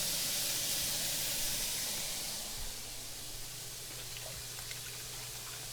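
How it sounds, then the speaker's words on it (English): Stir fry for Thai basil beef sizzling in a pan: a steady, dense hiss that starts loud and settles slightly quieter, with a few faint pops and no voices. "It sounds like stir fry though."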